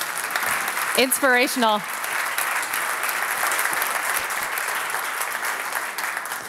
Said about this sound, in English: Another round of applause, please, for Dr. Chang-Gyu Hwang.